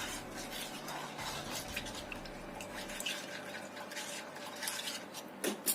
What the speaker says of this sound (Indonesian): Kita aduk rata dulu.